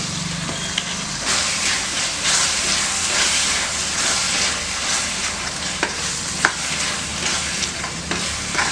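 Half a packet of baby corn tipped into a hot frying pan while making a sabzi for puri and chapati, giving a steady loud sizzle with scattered crackles and occasional stirring clicks, no voices.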